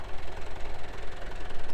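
Massey Ferguson 178 vintage tractor engine idling close by, a steady low diesel chug with a rhythmic knocking pulse, loud and alone.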